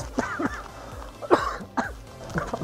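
Several short coughs from a few diners a couple of tables away in a New York hot pot restaurant, scattered over a few seconds with brief gaps, against faint room noise.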